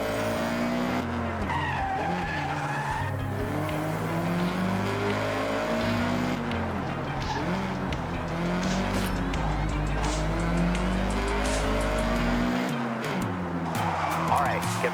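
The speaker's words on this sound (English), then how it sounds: "All right, get the CRX up to speed." In the Forza Horizon 6 racing game, a Honda CRX revs hard and its tires squeal and skid through long sliding runs, engine pitch rising and falling throughout, with voices talking over it.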